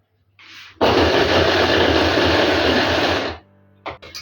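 An electric grinder whirs loudly for about three seconds while grinding garlic, starting abruptly and cutting off, with brief mechanical clicks before and after.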